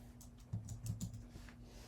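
Quick run of keystrokes tapped on a computer keyboard in a quiet room, a short burst of a few clicks over a faint steady hum.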